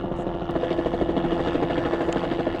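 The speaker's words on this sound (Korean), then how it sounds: "보호소 상공이 헬기 소리로 시끄러워집니다." A helicopter flies over a polar bear shelter, its rotor chop a steady rapid throbbing beat under a dense engine roar, fairly loud and alone.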